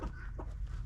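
Hens in a farmyard give a brief, close burst of soft clucking over a low rumble of background noise.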